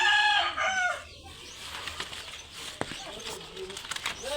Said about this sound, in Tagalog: Ayan po yung manok ko.